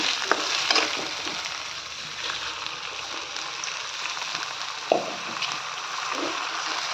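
Pulao cooking in a frying pan, a soft continuous sizzle with occasional clinks and stirring scrapes at close range, fairly quiet and without talk.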